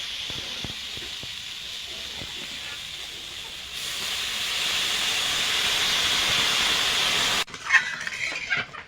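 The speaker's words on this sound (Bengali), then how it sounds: "আমি একটু ভেজে নিয়েছি তরকারিটা, এবার গরম জল দিয়ে দেবো।" Hot water hits fried potato and pointed gourd curry in a pan, producing a loud, steady hissing sizzle that swells and then cuts off abruptly, followed by brief stirring clatter.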